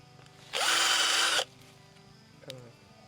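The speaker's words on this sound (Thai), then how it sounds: "เราก็เริ่มเจาะลงเจาะนะ" A power drill bores into a tree trunk on a farm, a loud steady whir lasting just under a second, followed by a brief fainter burst, with quiet background between.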